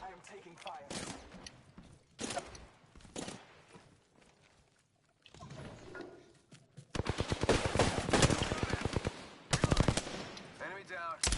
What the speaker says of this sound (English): Shots fired and this is me. Firing.